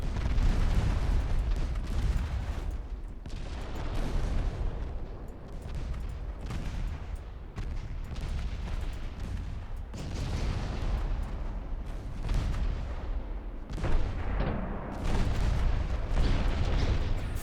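Naval artillery in the warship game Ultimate Admiral: Dreadnoughts, a dense stretch of heavy booming salvos and rumbling explosions that overlap into a continuous loud barrage, with a few sharper blasts standing out.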